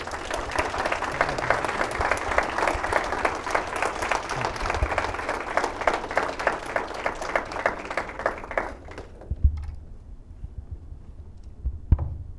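Audience applause at an international conference on critical thinking, a sustained round of dense clapping that fades out abruptly, followed by a quiet room with a few faint knocks.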